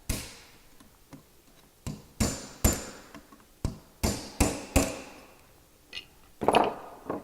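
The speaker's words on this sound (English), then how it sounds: "for that, I'm going to use my drift and hammer." Sharp metallic hammer blows on a steel drift tightening a coilover suspension locking ring, about a dozen strikes in an uneven rhythm, some light taps and some heavy ringing hits, close by.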